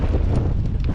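Strong wind buffets the microphone at a mountain bike park racetrack, a loud continuous low rumble with gusting bursts and no speech.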